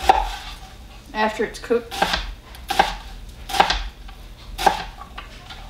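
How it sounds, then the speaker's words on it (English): Half an onion is chopped with a knife on a cutting board, several crisp irregular thuds close by, with a few words spoken between cuts. "All right, now we're gonna chop up our onion."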